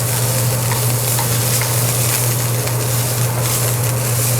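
Vegetables sizzle and fry steadily in a stir fry pan, a loud, continuous close-up hiss with no talking.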